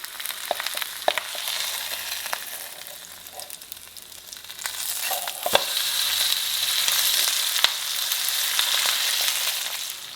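A lamb leg frying in a pot gives a continuous close sizzle and crackle, with scattered pops and spatters that swell louder in the second half.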